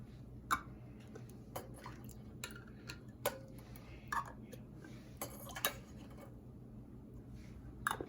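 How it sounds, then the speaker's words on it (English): A magnet lid tool setting metal canning lids onto jars of Mexican pinto bean soup, heard as scattered light metallic clicks and taps spaced irregularly over a quiet kitchen background. "My magnet tool to put on my lids."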